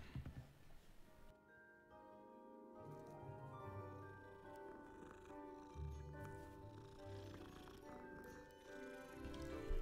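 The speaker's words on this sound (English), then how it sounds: "I was gonna stop to pet the cats." Cats purring in the Harry Potter Hogwarts Mystery video game, a soft continuous low rumbling purr, faint and close, with game music tones over it.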